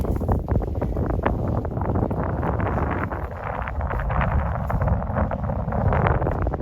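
Strong gusty wind at a beach buffets the microphone in a continuous, loud rumble, with no other clear sounds rising above it.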